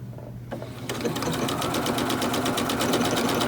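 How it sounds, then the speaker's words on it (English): A sewing machine starts up and runs in a fast, steady mechanical rattle, needle stitching a buttonhole in terry towel rapidly and evenly. "hope that your sewing machine does what it's supposed to do"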